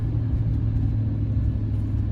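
A 2021 Ford F-150 pickup engine lifts off the throttle while towing a trailer, producing a steady, low, droning rumble from inside the cab with road noise and no voices.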